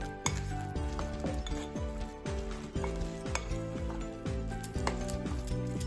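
Mashed sweet potato katlet mixture with coriander is stirred by hand in a bowl, giving a run of soft, repeated clinks and scraping knocks against the bowl, with no speech.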